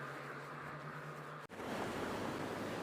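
A wildly high river rushing under a road bridge at the edge of Ludlow, a dense continuous roar of churning water with wind buffeting the microphone and a brief dropout midway.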